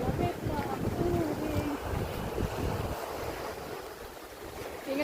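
Sea waves wash in near the shore under strong wind buffeting the microphone, producing a continuous rough roar, with faint voices talking in the background.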